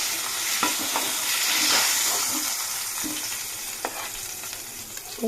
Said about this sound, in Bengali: মাছটা লাল লাল করে ভাজা হয়ে গেছে এটাকে এবার তুলে নেব